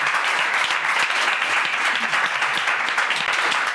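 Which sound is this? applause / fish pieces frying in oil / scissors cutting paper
applause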